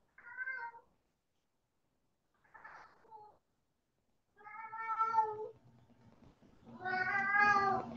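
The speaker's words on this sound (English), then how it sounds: "My cat." A house cat meows several times in short, separate calls with pauses between them. The cries grow louder and more drawn out toward the end, close by in a quiet indoor room.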